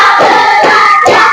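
A class claps in unison on command, three loud, sharp group claps spaced evenly apart.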